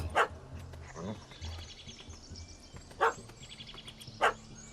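A puppy barking in The Witcher 3: Wild Hunt – Hearts of Stone: three sharp, separate barks spaced a few seconds apart over quiet outdoor ambience with faint birdsong.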